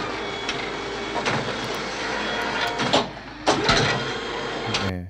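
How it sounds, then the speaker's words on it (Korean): An X-ray machine sound effect from a sound library plays as a steady, dense mechanical hum and whine with several clunks and surges, ending abruptly. "다음에 엑스레이 머신도 있네요."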